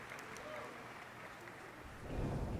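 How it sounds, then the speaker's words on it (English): Brief scattered sympathy applause from an audience at a live PlayStation showcase stream, a faint patter of clapping under ongoing talk that swells slightly near the end. "Their sympathy claps."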